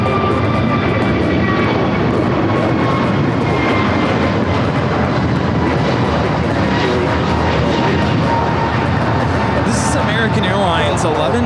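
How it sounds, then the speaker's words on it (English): An American Airlines A321neo jet takes off from LAX with a loud, steady broadband engine roar that holds for the whole stretch, with voices talking faintly underneath. "American Airlines 1105 taking off to Charlotte on the A321neo."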